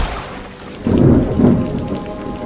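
Thunder rumbles through heavy rain, with two louder crashes over a steady downpour and no voices.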